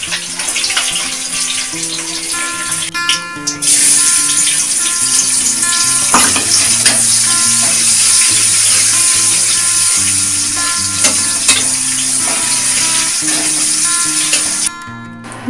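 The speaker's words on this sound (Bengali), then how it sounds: "মাছটা ভেজে দিই" Fish fries in hot oil in a pan in a home kitchen, a loud, continuous sizzle and crackle with a few brief clatters and no speech.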